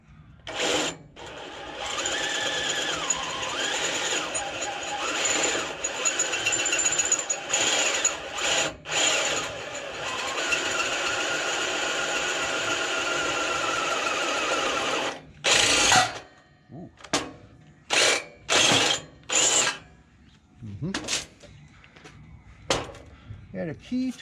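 Power drill boring into the steel spring plate of a homemade gold ore shaker table, a sustained close whine that runs steadily and then breaks into short bursts with pauses, with talk mixed in.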